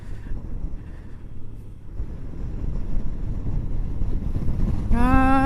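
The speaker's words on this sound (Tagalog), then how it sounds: "Grabe ang lakas ng hangin" Strong wind buffets the microphone during a ride on a Honda Genio scooter, a continuous rough roar with engine rumble underneath, and a brief tonal whine rising at the very end.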